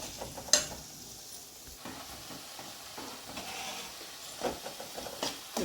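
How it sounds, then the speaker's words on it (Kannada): Onions frying in a pan for chicken ghee roast, a soft steady sizzle with occasional stirring scrapes and clinks, fairly quiet and close, no voices. "ಈರುಳ್ಳಿ ಹಾಕಾದ್ಮೇಲೆ ಸ್ವಲ್ಪ ಫ್ರೈ ಮಾಡೋಣ"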